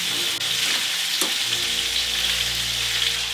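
Veal sweetbreads cook gently in a pan with a soft, steady sizzle and faint crackling, with a brief utensil tap early on; no voices.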